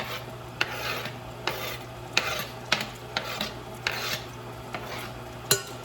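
Steady frying of plant-based sausage with peppers in a pan, with scraping and clinking of a utensil stirring at intervals, close and moderately loud, no voices.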